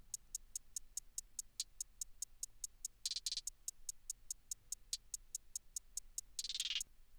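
Programmed hi-hats from a song's drum track tick in a fast, even pulse of crisp, bright hits, with a couple of longer open-hat washes breaking the pattern, quiet and isolated.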